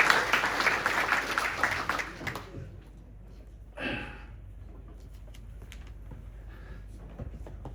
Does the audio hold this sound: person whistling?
no